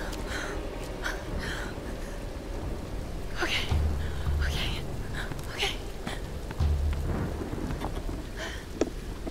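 Heavy rain pours steadily in the action game Tomb Raider, with low rumbling thunder rolling in twice and occasional sharp splashes or footfalls over the constant hiss.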